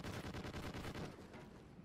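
Gunfire in Call of Duty: Ghosts, a multiplayer gun game match: a rapid, steady burst of automatic shots at moderate loudness that runs for under two seconds and then trails off.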